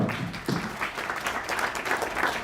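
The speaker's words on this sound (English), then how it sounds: "Round of applause for Vlad" An audience at a San Francisco tech demo night gives a speaker a short round of applause, dense steady clapping from a room full of people that fills the brief moment.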